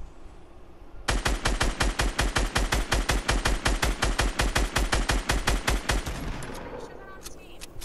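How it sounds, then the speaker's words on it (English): Sustained rapid gunfire in the Fortnite video game, a long burst of evenly spaced loud shots running about five seconds before breaking into scattered fainter reports, with no one talking over it. "I'm sure they're shooting at each other"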